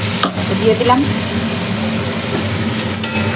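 Spice paste of tomato, ginger, onion and green chilli sizzling steadily in a hot pan, loud and close, with stirring scrapes and a brief spoken phrase.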